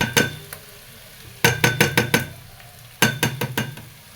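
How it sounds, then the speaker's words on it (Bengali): Fried aromatic rice going into a pot of spice masala with potatoes, heard as bursts of sharp scraping and clinking stirs in three quick clusters over a low sizzle, close and fairly loud. "ভেজে রাখা আতপ চাল দিয়ে"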